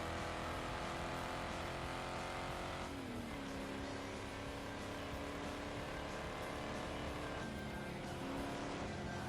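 Continuous engine drone of racing cars in the video game Ford Racing 2, a steady buzzing roar with pitch shifts as engines rev and shift, loud and unbroken throughout.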